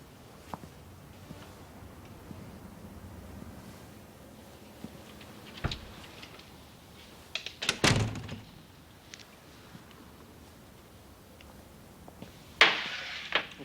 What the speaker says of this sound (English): Okay, John, open the door.